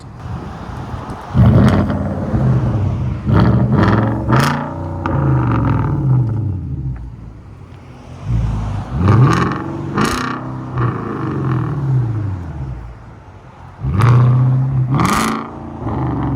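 A 2012 Hyundai Genesis 4.6-liter V8 with Dynomax Bullets and a muffler delete revs hard in several loud bursts, each swelling to a throaty roar and falling back to a rumbling idle, close and dominant throughout.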